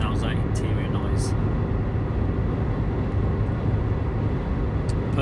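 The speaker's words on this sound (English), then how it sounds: "This is what the cabin noise sounds like, interior noise." Inside a Toyota Aygo cruising at 60 on a motorway, a constant, dense road and engine drone with wind rush fills the cabin, steady and loud without letup.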